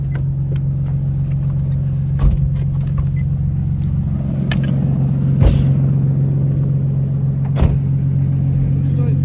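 A drift car driven hard on a rain-soaked track on Christmas Eve, its engine a steady, close droning rumble broken by a few sharp thumps and bursts.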